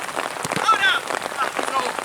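Steady rain patters on a hard surface, a dense, close hiss of drops, with people talking softly underneath, in Bariloche.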